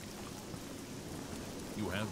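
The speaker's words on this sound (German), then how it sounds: "Oh ja, Regen, super." Steady rain hisses continuously in The Elder Scrolls IV: Oblivion, an even wash of rainfall that swells slightly louder near the end.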